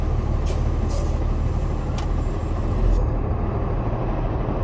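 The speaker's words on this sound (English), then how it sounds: "Mr. Chester, I'm going to be pulling forward at 3 to 5 miles an hour. I will put my foot on the brake" A Class A truck idles loudly in the cab as it creeps forward at a few miles an hour, with short hissing bursts from the air brakes as the service brake is applied.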